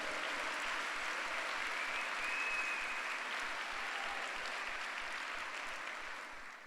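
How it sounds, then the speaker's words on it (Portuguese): A church congregation at a Sunday service gives a sustained round of applause, heard as a faint, distant, even wash of clapping that holds steady and then fades slightly at the close. "Dá um aplauso ao Senhor."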